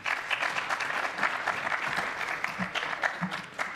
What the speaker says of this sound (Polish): Poproszę o brawa.